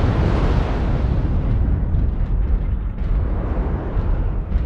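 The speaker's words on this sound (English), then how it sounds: "Now I'm being hit by missiles" Missiles slam into a player's mech in MechWarrior Online, a dense, continuous roar of blasts and rumbling impacts that stays loud and close throughout with no pauses.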